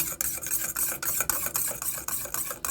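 A spoon stirs attar and a little rose water into milk for chicken biriyani. The stirring is a steady scraping swirl, close and fairly loud, with regular strokes and no voices.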